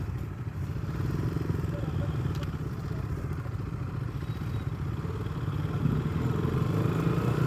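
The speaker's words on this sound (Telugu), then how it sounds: "ఆ భయ్య మస్తు వస్తుంది సౌండ్, అది కవాసాకి ఏదో ఉంది బండి." A Kawasaki motorcycle engine running during a weekend group ride, a continuous loud rumbling drone with clattery texture, steady throughout and close by.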